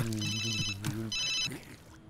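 A phone rings with two electronic ringtone bursts in quick succession, close and clear over a low background hum, then cuts off.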